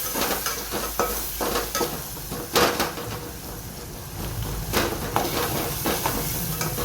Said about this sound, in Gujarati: ટામેટા તુવર સરસ વઘારી દીધી છે